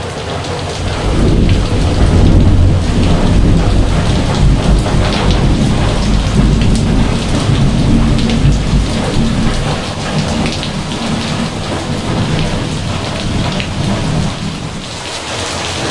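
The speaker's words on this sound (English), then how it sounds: "The rain just started." Steady rain from a tropical storm pours down continuously, a dense hiss of drops drumming on surfaces with low rumbling underneath, loud and close throughout.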